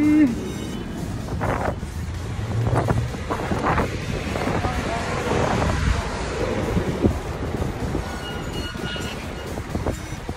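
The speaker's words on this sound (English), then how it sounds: "It's windy." Wind gusts buffet the microphone in a steady low roar, with a few brief voices and bumps mixed into the blustery outdoor noise.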